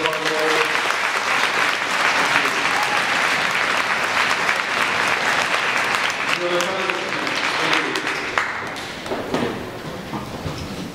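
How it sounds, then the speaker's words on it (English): An audience applauds at an intermediate school orchestra spring concert. The dense, continuous clapping is fairly loud and close, then thins out and tapers toward the end. "let's give one more round of applause for our principal"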